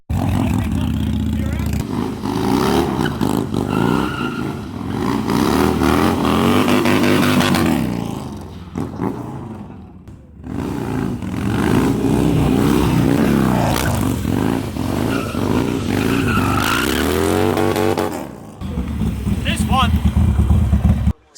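Harley-Davidson Sportster with a Thundermax tuner and aftermarket pipe rumbling and revving on a ride, loud and continuous engine noise with people talking over it.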